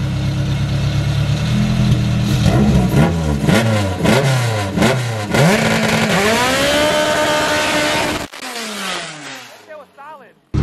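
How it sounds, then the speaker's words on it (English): A car with a K24 engine revs hard through a burnout, the engine climbing and falling in repeated loud pulls before cutting off abruptly, with people talking nearby. "He's gonna do a burnout."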